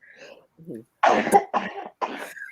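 Three harsh coughs in quick succession, close and fairly loud, preceded by a few quieter vocal sounds.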